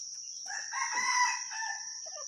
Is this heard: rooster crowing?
yes